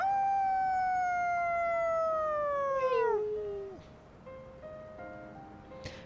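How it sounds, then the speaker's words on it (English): Koromaru, a dog in Persona 3 Reload, lets out a long, clear, falling howl at a quiet shrine, drawn out for about three seconds before trailing off into near silence with a faint sound near the end. "Koromaru's howl resounds throughout the quiet shrine"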